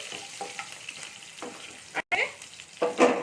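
Green chilies fry in oil with cumin, mustard and sesame seeds, giving a soft crackling sizzle broken by spatula scrapes and stirring bursts, with a short gap of silence midway.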